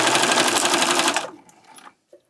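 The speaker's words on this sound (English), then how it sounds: "We're using about a 1/4 inch seam allowance here," A sewing machine stitches a straight seam with a quarter-inch allowance on a small fabric pouch, running in a fast, loud, even whir for just over a second before stopping, followed by faint handling noises.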